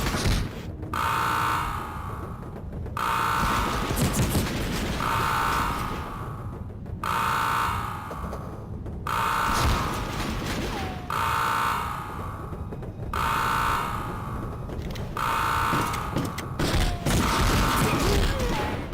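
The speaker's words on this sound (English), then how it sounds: "Alarm!" An alarm in the PS1 war game Medal of Honor blares in regular on-off pulses, a loud buzzing siren repeating about every two seconds over heavy gunfire and explosions.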